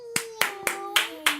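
Five sharp hand claps ring out in an even, quick rhythm, close and crisp, with a faint sustained tone running beneath them.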